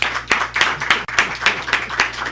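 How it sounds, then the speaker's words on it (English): An audience at a Pan-African anniversary forum claps together for a speaker, a dense, steady applause with rhythmic peaks from nearby hands and a faint voice murmuring underneath. "Let's give this brother a round of applause"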